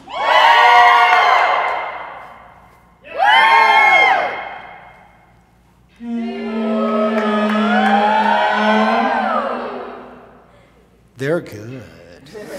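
Audience at an open stage comedy show cheers and whoops loudly in three bursts, the longest swelling for several seconds, with a brief shout at the end.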